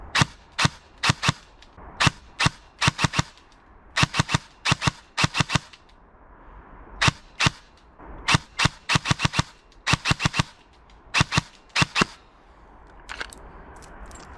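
Specna Arms SA-H07 airsoft AEG rifle firing in short, sharp bursts of a few shots each, repeated over and over with brief pauses between, close and loud with no talking.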